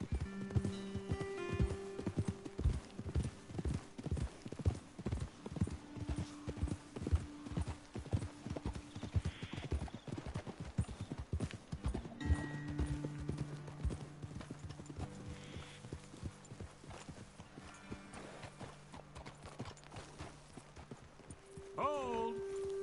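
Horses clip-clop steadily while ridden in the video game Red Dead Redemption 2, a dense, continuous hoof rhythm under game music and character voices, easing off toward the end.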